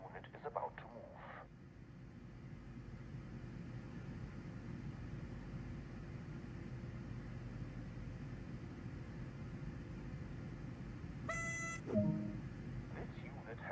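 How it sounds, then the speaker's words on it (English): Train horn in Train Sim World sounding one short blast near the end, after a long stretch of steady cab hum and engine drone. "Sound the horn to warn anyone around that the unit is about to move."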